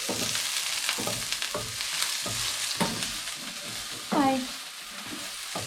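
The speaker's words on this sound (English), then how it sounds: "So you want to cook the garlic and the onions till they're like this kind of golden colour." Onions sizzle in a pan as they fry toward golden, a steady hiss broken by short stirring scrapes, with a brief squeaky utensil sound near the end; no one speaks over it.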